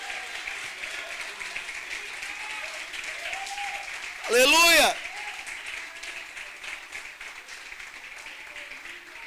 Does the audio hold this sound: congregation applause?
yes